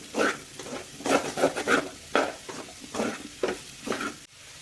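Potatoes crisping in hot oil in a pan while a rice dish is made, heard as close, rhythmic stirring and scraping strokes over a steady sizzle, repeating in bursts about every half second.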